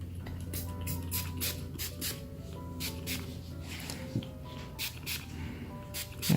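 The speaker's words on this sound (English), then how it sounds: "I'm going to give it a few sprays with this" Cleaner sprayed in a few short hissing bursts onto the parts of a disassembled Colt 1903 Pocket Hammerless pistol, close and fairly quiet, with a steady low hum underneath and some light handling clicks.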